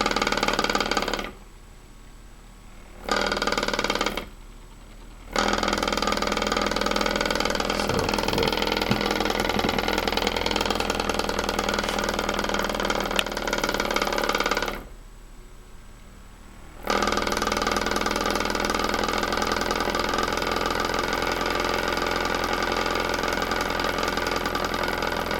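A generator engine runs loudly and steadily, its drone cutting out to near silence in a few brief gaps before resuming.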